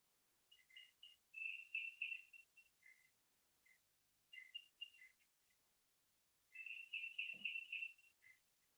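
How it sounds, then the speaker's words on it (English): A canopy bush frog, the water drop frog of the Western Ghats, calls just outside in clustered bursts of bright, high-pitched, droplet-like chirps, with quiet pauses between the three bouts. "I can actually hear that frog calling right outside"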